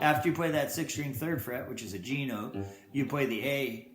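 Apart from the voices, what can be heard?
None of the usual background noises is heard.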